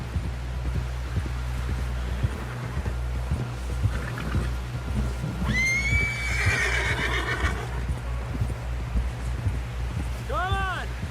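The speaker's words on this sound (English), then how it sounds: "Someone help John down off this horse." Horse whinnies from Red Dead Redemption 2 ring out over a steady low rumble of hooves and game ambience, with a rising neigh in the middle and another near the end. Voices speak intermittently.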